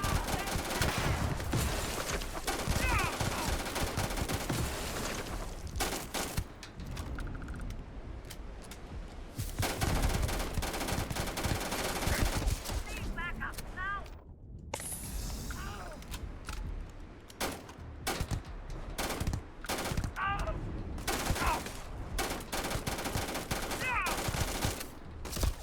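Rapid bursts of gunfire and weapon clatter in a Starfield firefight against Disciples or strikers, dense and continuous over about 25 seconds with a brief lull midway, layered with game sound effects and a voice talking.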